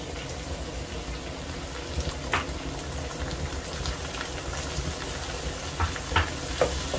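Chopped onions, lightly browned, and chopped tomatoes frying in a pan for a turnip dish, a steady close sizzle with faint scraping stirs and a few small clicks, no talk.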